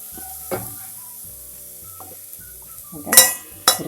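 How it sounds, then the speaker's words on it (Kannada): Potatoes fry for aloo poha, a soft sizzle under intermittent clinks and scrapes of a spatula stirring in the pan, with a few sharper metallic knocks near the end. "ಆಲೂಗಡ್ಡೆ ಎಲ್ಲ ಕೆಂಪಿಗೆ ಹುರ್ಕೊಂಡು ಬೆಂದಿದೆ"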